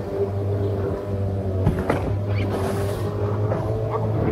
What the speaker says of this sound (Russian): Вот сейчас я иду против волны